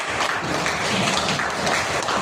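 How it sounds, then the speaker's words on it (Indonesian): A classroom of students claps for group 3 after their discussion, a steady, dense patter of many hands filling the room for a couple of seconds with no talking over it. "Tepuk tangan buat kelompok 3."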